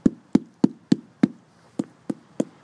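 Knuckles rap a water oak trunk eight times in a steady rhythm, each knock a sharp, close, dull hollow thud with a short decay and no talk over it.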